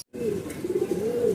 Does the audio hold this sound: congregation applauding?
no